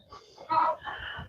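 A rooster on a Texas ranch gives a short, fairly faint crowing call in two quick phrases, heard alone without talk.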